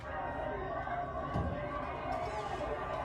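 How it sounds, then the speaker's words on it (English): Steady broadband crowd noise from a football game, a continuous roar of many voices with a brief thud near the middle. "to most of us, a football game sounds like this."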